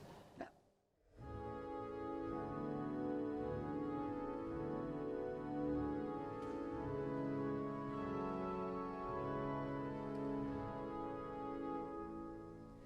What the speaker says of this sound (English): We have a really lovely set of strings here on the swell division, which are from the Walker rebuild of 1905.